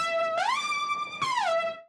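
Analog Lab's Blood preset, an analog synth lead, sounds alone with a dense, harmonically rich tone, swooping upward, holding a steady pitch, then bending back down before fading out.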